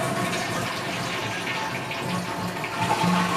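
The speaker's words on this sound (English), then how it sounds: "I wonder if I was to take this and try flushing it right now, if it would flush" A toilet that won't stop flushing runs with a steady rushing, gurgling wash of water close by for several seconds, continuous and fairly loud with no talking.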